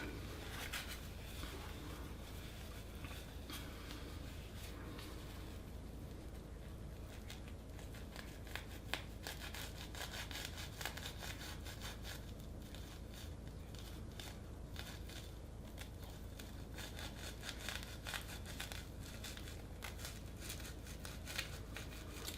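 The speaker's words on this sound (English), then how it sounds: "with the scissors tip underneath, I'm still trying to forge my way through" Steady close-up snipping and crunching of scissors stencil-cutting through a stiff poly hairpiece, continuous and fairly quiet with small crackles throughout.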